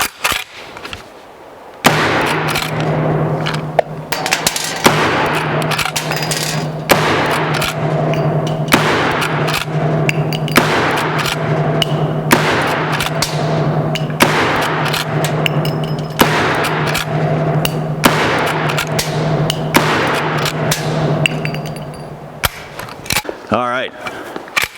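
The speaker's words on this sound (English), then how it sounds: "Let's see if we can dump these last 10 rounds," A rifle shooting its last ten black powder rounds, with loud, sharp reports coming in a steady rhythm about a second apart over a constant low hum, then a brief break near the end.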